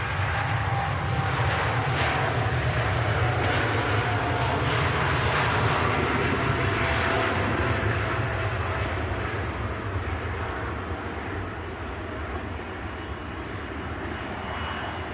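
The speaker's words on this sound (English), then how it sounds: "There goes the Gulf Air Dreamliner heading back to Bahrain. Another awesome wide-body departure." A Gulf Air Boeing 787 Dreamliner wide-body jet departs Manchester, its engines a loud, steady roar that holds for the whole stretch and eases slightly toward the end, with no talk over it.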